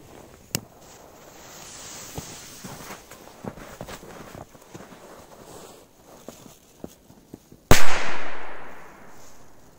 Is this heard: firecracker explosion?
yes